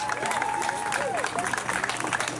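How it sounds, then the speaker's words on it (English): A crowd at an outdoor rally claps and cheers in a dense wash of applause, with whoops and murmuring voices mixed through it. "give yourself a round of applause for getting up here today"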